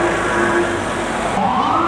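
A military ambulance siren wails loudly and steadily at close range during Singapore's 55th National Day Parade, with its pitch sweeping upward near the end over a dense background of crowd and traffic.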